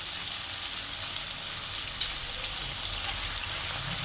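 Salted, turmeric-coated prawns frying in hot oil in a pan, a steady dense sizzle throughout, close and continuous with no talking.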